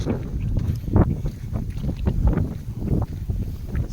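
Steady wind rushing and buffeting the microphone outdoors on Mt. Batulao, a continuous low roar with gusty swells throughout.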